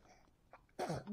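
A single sharp sneeze bursts out near the end, close and loud after a brief quiet lead-in.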